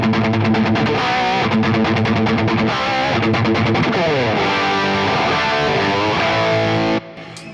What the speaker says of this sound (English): So I've just whacked my tube screamer on, and now my guitar sounds like this.